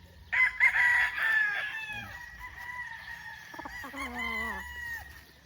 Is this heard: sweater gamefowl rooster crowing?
yes